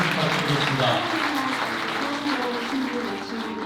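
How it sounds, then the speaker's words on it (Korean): Wedding guests in a ceremony hall give warm applause, a steady, fairly soft wash of clapping that carries evenly for several seconds with faint voices mixed in. "여러분 따뜻한 박수"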